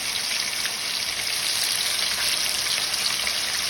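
Fish coated in turmeric and salt shallow frying in hot oil with curry leaves, a dense, loud, unbroken crackling sizzle that stays close and steady throughout, with no speech.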